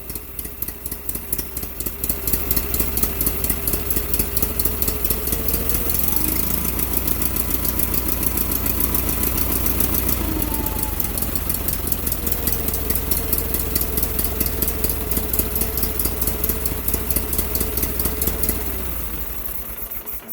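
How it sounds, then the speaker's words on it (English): An Onan P216G engine on a Case Ingersoll 4016 garden tractor, fitted with a Nikki 6100 carburetor, idles steadily and close, a loud, even rhythmic chugging whose pitch rises and settles briefly as the throttle shifts, with no talk over it. "And she's running good."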